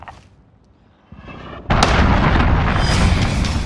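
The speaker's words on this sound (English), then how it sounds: "Enemy cruise missile, take cover!" A cruise missile strike in Call of Duty: Modern Warfare 2019 hits after a quiet rumble, erupting into a loud, sustained explosive roar that fills the last two seconds.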